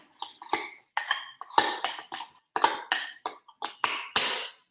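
Eggless egg salad being mixed in a bowl, a run of close, separate clinks and scrapes from a utensil against the bowl in an uneven rhythm, with no talk.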